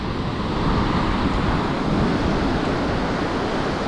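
Ocean waves roll onto Treasure Beach, Jamaica, as a loud, broad and steady roar of surf mixed with wind buffeting the microphone.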